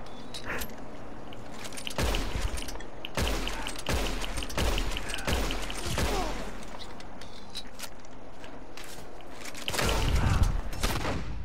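Gunfire in Red Dead Redemption 2: a string of sharp shots spread across the scene, some close together, heavy ambient noise underneath and a louder burst near the end.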